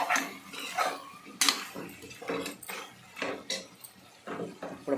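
A spoon stirs mutton head curry in a cooking pot, giving irregular close scrapes and metallic clanks against the pot with soft wet sloshing between strokes.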